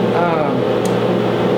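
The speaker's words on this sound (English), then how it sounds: "Sorry for the noise, I've got my dust collection on." A steady, loud mechanical roar of a running woodshop dust collector fills the background while a person talks over it.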